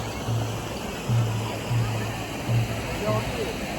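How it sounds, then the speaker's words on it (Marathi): River water rushes steadily in a continuous broadband roar close by, with someone speaking over it at intervals. "हे पाणी कसं वाहतंय खळ खळ खळ खळ खळ खळ बघितलं का"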